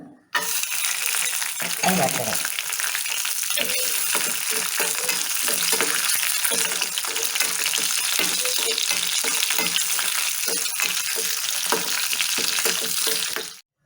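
Cashews frying in a pan, a continuous close sizzle with frequent small clicks and scrapes of stirring throughout, steady and fairly loud from start to finish.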